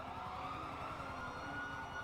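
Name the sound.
police sirens, from video game GTA V (NoPixel roleplay)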